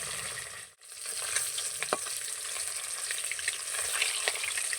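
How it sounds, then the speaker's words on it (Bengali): Pieces of katla fish fry lightly in hot oil in a pan, giving a steady close sizzle and crackle throughout, with a brief dip near the start and a few soft utensil clicks; no one speaks. "হালকা করে ভেজে নেব।"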